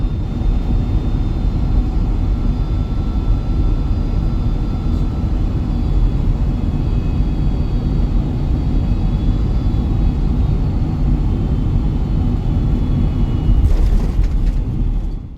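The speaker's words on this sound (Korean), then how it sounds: "CF6 엔진들이 마지막으로 출력을 줄이면서" Asiana Boeing 767 with CF6 engines on final approach into Gimpo, engines throttling back: a steady, loud, broadband jet roar and rumble holding throughout, swelling slightly near the end.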